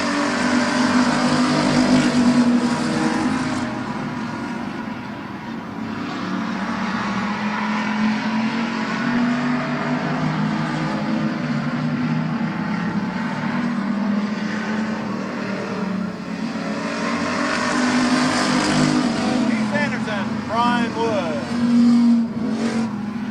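Race cars circle a short speedway oval at the Midvale Speedway fall classic, engines roaring steadily with rising and fading passes, while a track announcer talks over the noise throughout.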